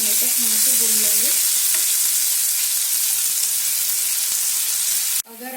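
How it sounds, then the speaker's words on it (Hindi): Finely chopped onions and cumin seeds fry in hot oil with a loud, steady sizzle and the scrape of stirring throughout, cutting off abruptly at the end. "प्याज का कलर हल्का गोल्डन ब्राउन होने तक हम इसे भून लेंगे"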